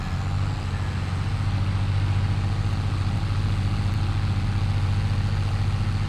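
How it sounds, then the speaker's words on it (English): A Massey Ferguson tractor engine in Farming Simulator 22, a loud, steady low diesel rumble running continuously and close, without talking. "I also enjoy the engine sounds of this"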